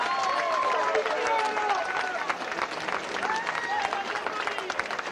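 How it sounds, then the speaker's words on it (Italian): A crowd at a Sardinian horse race derby claps and cheers in sustained, dense applause, with voices mixed into the noise. "un applauso senza freni per il nostro zio Tonino"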